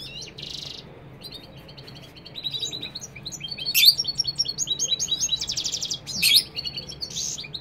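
Goldfinches and canaries sing together in bright, rapid twittering phrases and sharp chirps, close and lively, with louder bursts overlapping amid a low background hum.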